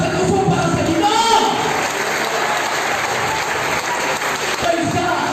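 Church congregation clapping during a Sunday service, a dense, continuous applause that fills the room at fairly loud level for several seconds, with some voices mixed in.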